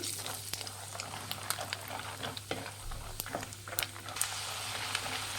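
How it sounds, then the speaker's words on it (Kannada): Peanuts frying in hot oil for a citron rice dish, a soft continuous sizzle and bubbling close by, broken by scattered clicks and scrapes of stirring. "ನಾನೊಂದು ಐದು ಟೇಬಲ್ ಸ್ಪೂನ್ ಆಗೋಷ್ಟು ಕಡಲೆ ಬೀಜ ಹಾಕ್ಕೊಳ್ತಾ ಇದ್ದೀನಿ ಇದನ್ನು ಫ್ರೈ ಮಾಡಿ"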